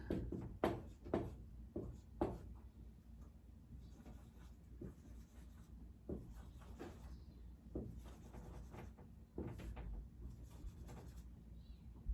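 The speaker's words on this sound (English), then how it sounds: "I'm going to write it in." Pencil writing notes onto sheet music for a sight-reading exercise, close faint scratchy strokes in short irregular bursts against a quiet room, with no speech.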